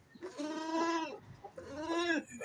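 Goats bleat on a farm where hooves are being trimmed, two drawn-out wavering calls close by with a short pause between them and no talking over them.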